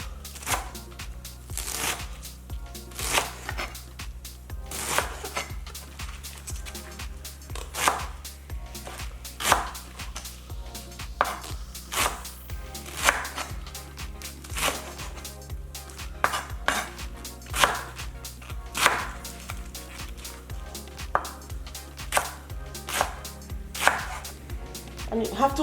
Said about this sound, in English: So now you start slicing, making sure you're holding it tight,